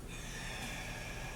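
A single steady exhaled breath, close and moderately loud, drawn out over a second or so during a floor-based mobility exercise, with no talking over it.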